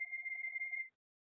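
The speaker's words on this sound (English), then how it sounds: "You might be able to hear the phone, it's across the other desk there." An office desk telephone on a nearby desk rings with an incoming call, one steady electronic ring tone lasting under a second before cutting off, then a brief start of the next ring; fairly faint, no talking.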